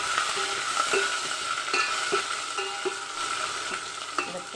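Crushed garlic, onion and curry leaves fry in oil for a murungai keerai kulambu, a continuous sizzle with repeated light clinks and scrapes of a spoon stirring the pan.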